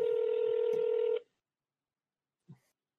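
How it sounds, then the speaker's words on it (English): One loud telephone DTMF dialing tone holds steady for just over a second and then cuts off, followed by silence and a single soft click or thump. "Generate DTMF tones."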